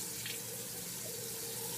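Tap water runs steadily into a sink during a wet shave, a continuous close hiss with no talking over it.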